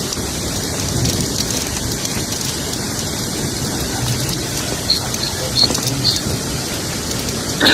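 A heavy rain and hail storm gives off a dense, steady roar of pouring rain and pattering impacts that runs evenly throughout, with no voices.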